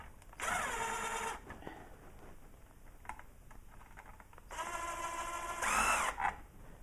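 A cordless drill or driver turns a light fixture's mounting screws in two separate whirring bursts, each about a second long, with faint clicks and handling noise between them, close and fairly quiet.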